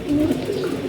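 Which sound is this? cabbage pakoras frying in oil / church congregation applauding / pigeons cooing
pigeons cooing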